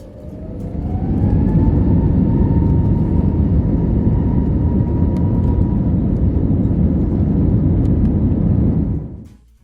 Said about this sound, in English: let you enjoy the takeoff sound